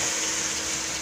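Water poured into sautéed bitter gourd (ampalaya) in a pan, with egg and fried anchovies in the dish, makes a steady hissing gush that stays even through the short moment, with no talk over it.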